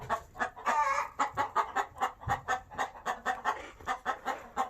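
Several backyard hens cluck and murmur together in their roost at close range, a busy rhythmic run of short calls with no talking.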